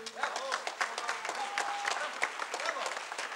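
Audience applause at a musical comedy theatre show, honouring the backstage set, curtain and wings crew; steady clapping from a crowd with scattered sharper claps and a brief whistle-like tone partway through.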